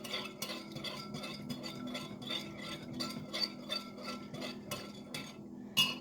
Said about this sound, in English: Give that a good stir. Get that salt dissolved in there.